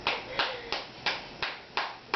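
Hands clap seven times at an even, unhurried pace, each clap sharp and close, with quiet gaps between and no talking.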